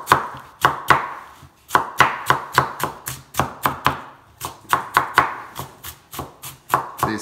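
An onion being chopped into large chunks on a cutting board for Mexican-style eggs, crisp knife strikes in quick regular bursts, each chop knocking sharply on the board, close and alone with no talking.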